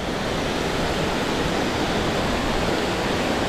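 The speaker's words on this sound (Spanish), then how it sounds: "Mirad qué chula esta cascadita aquí." A small waterfall cascades below a dam in La Rioja, a steady, dense rush of falling water close by, unbroken and with no voices.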